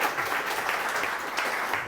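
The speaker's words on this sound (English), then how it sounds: "can we please give him and the other panelists a round of applause" A crowd applauds panelists at a talk on elections, a steady dense wash of clapping that stays even and loud for about two seconds with no voices over it.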